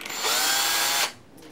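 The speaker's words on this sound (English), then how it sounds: "if you have a drill with a small bit" A small-bit power drill whirs steadily through a popsicle stick for about a second, loud and close, then cuts off, leaving quiet room tone with faint rustling.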